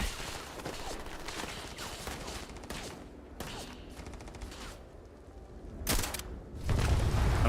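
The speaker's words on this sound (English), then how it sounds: "These sniper rifles are so good." Sniper rifle gunfire in the sci-fi game Starfield: scattered sharp shots and mechanical clicks over a busy game soundscape, with a louder burst near the end.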